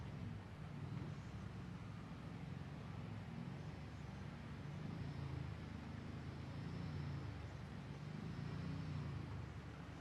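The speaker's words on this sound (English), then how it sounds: "Couple of cars, you can hear them trying to keep it running." Rough, uneven engine rumble from several race cars idling together and struggling to keep running, steady and moderately loud, with no voices.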